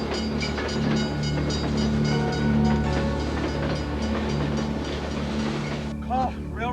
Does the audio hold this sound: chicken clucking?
no